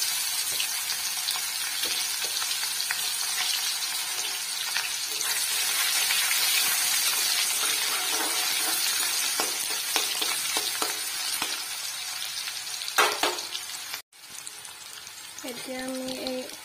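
Chopped onions sizzle loudly and steadily in hot oil for an Assamese fish curry, a dense close frying hiss with occasional stirring clatter and a brief dip near the end.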